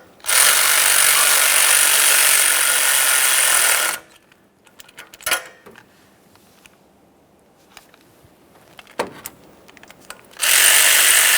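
A power tool runs hard on EGR tube mounting hardware of a 2012-2015 Honda Civic, loud and continuous for about four seconds, then again briefly at the end, with quiet clicks and handling noises between bursts.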